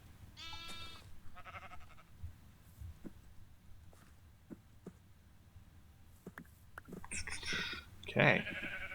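Sheep bleating on a farm, a couple of bleats near the start and a louder burst near the end, separated by quiet stretches with soft clicks, thuds and faint speech in between.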